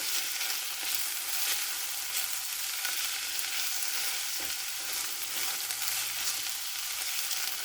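Sweet potato filling sautés in a pan, giving a steady, even frying sizzle with light stirring throughout and no voices.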